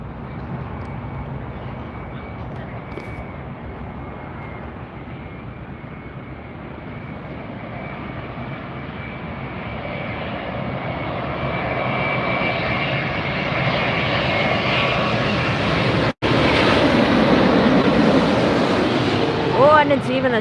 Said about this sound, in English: Here comes a 787-9 Dreamliner.